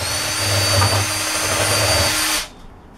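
Power drill boring two holes through a mace prop, a steady loud whine with a low motor hum that runs for over two seconds and then cuts off abruptly, leaving near silence.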